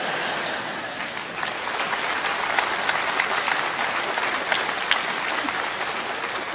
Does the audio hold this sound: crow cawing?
no